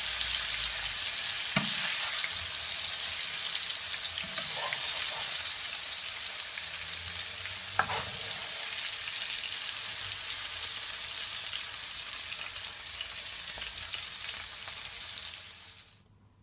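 Jamaican pork chops fry in a pan with a loud, steady sizzle throughout, a few faint clinks and stirs breaking in before the crackling cuts off at the end.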